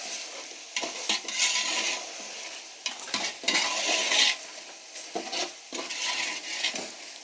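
Beef stirred in a pot for degi-style beef yakhni pulao: bursts of scraping and sizzling as a spoon drags through the meat, coming in uneven strokes with short pauses, close and fairly loud.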